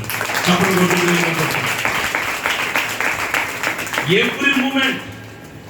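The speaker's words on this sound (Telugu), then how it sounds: "Clap your hands and praise God." A church congregation clapping their hands in praise, a steady mass of applause heard under a preacher's voice.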